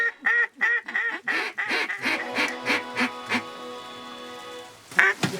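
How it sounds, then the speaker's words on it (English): A flock of ducks quacks loudly and close by on a cold-front hunting morning, a rapid run of harsh, rhythmic calls that fades before a final burst of quacks. "But yeah, tons of ducks around."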